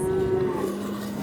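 Calves at a ranch, gathered for tagging, ear notching and vaccinations, give a single drawn-out moo at moderate distance, steady and fairly clear over a soft background.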